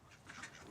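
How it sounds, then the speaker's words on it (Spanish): Ducks quack on a small backyard farm flock, a faint, brief burst of overlapping nasal calls heard from a distance, with no talk. "Tengo 42 patos."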